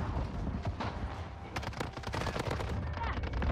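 Rapid bursts of automatic gunfire in the shooter game Modern Warfare during a Search and Destroy match, loud and dense, with clustered sharp shots and game noise.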